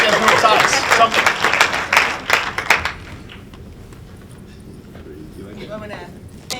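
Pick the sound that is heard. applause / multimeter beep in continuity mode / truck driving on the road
applause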